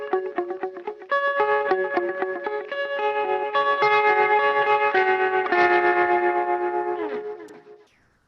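An electric guitar runs through an HX Stomp pedal's tempo-modulated delay, plucked notes ringing out with repeating echoes that stack into a dense shimmering wash before fading away at the end.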